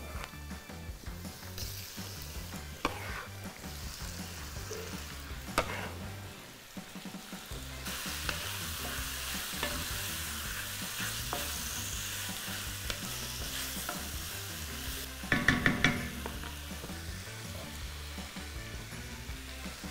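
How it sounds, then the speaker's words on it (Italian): Tripe fries in a pan for a Peruvian cau cau, a soft sizzle with intermittent scraping and stirring clatter, a few louder knocks near the end, no talk. "E ora metto la trippa."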